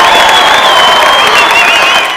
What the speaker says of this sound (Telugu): ఒకసారి గట్టిగా వాళ్ళకి క్లాప్స్ కొట్టాలి.